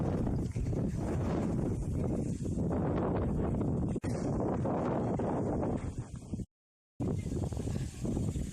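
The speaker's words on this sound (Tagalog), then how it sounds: "Grabe, ang lakas ng hangin!" Strong wind on a mountain summit buffets the microphone in a steady, heavy roar that continues almost throughout, cutting out briefly near the end before returning.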